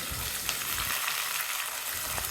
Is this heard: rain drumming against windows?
no